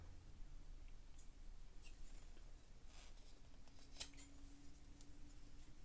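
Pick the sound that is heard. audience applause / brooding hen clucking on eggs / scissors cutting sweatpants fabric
scissors cutting sweatpants fabric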